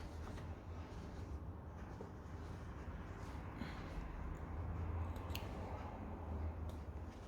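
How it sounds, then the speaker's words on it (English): Scissors trim threads on a sewn apron, giving a few faint, short snips over a quiet, steady room background. "then from the other side we're trimming back the threads"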